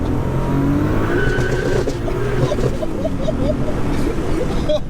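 An 800bhp turbocharged Mk3 VW Golf launches hard off the line in second gear, its engine roaring loud and close with a rising note, tyre noise and faint voices inside the car.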